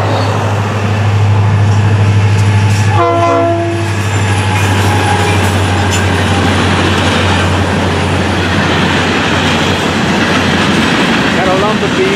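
An FEC freight train with a lumber car at the head end and a string of empty hoppers rolls past close by, a loud continuous rumble and wheel noise with a low steady drone and a brief horn-like tone early on.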